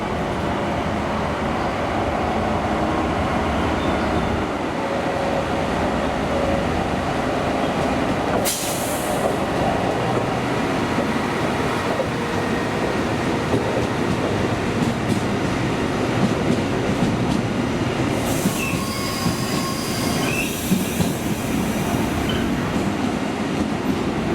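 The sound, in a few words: special test train hauled by Indonesian-built CC 300 locomotive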